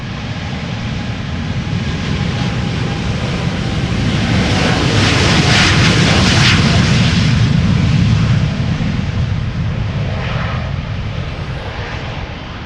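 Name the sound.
KLM airliner departing for Panama City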